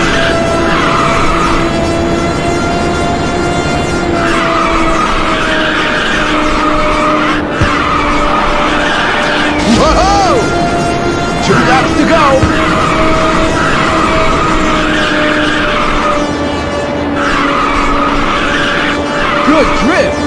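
Tire squeal from a car drifting in the racing video game Ridge Racer 2 on PSP, a long loud skid over a constant engine drone, recurring in waves, with an announcer's voice briefly.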